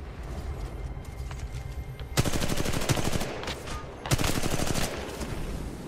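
Gunfire in the multiplayer shooter Titanfall 2: two loud bursts of rapid automatic fire, each a couple of seconds long, over constant game background noise.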